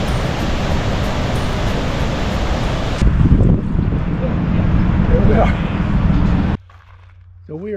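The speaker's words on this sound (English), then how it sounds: "There is a tremendous amount of water that comes over this, and the noise here again is deafening." Athabasca Falls in Jasper National Park, Alberta, where a tremendous volume of water pours over the falls, gives a loud, steady, deafening roar close by, buffeted by wind, before the level drops away sharply near the end.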